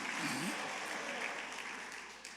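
A church congregation applauding during a worship service, a dense burst of clapping that fades gradually over about two seconds with faint voices mixed in.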